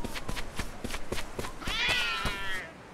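A cat in the video game Like a Dragon: Ishin! Kiwami meows clearly and close, a drawn-out wavering cry over a steady series of soft footstep-like taps.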